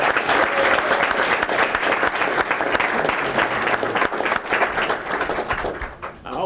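Steady applause from an audience at a city commission meeting, honoring elementary school students, dense clapping sustained for several seconds before tapering off near the end.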